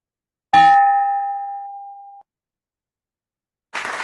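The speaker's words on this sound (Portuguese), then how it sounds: "ouçamos o toque do sino virtual." A single virtual bell-like ding rings out clearly at an online meeting and decays over about two seconds, followed later by a brief burst of noise.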